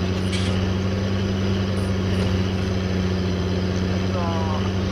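A tractor engine labours steadily uphill on a Bavarian farm, a continuous low droning hum with strong steady harmonics throughout, close and loud, with faint voices in the background.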